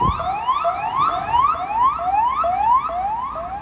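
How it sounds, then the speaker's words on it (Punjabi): An ambulance siren wails in a repeating rising sweep, cycling roughly every half second, loud and steady with no voices. "ਐਂਬੂਲੈਂਸ"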